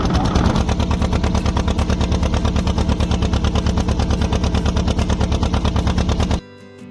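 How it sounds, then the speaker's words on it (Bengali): A motor boat engine runs at sea off Lalganj beach, a loud, close, rapid chugging pulse that holds steady for several seconds before cutting off abruptly. "দেখতেই পাচ্ছেন আমাদের বোট ছেড়ে দিয়েছে"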